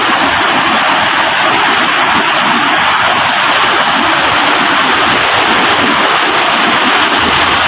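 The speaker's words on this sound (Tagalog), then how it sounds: "Talaga po nadating pa po ang malalaking alon." Big ocean waves make a loud, continuous broadband roar that stays even throughout, with no voices over it.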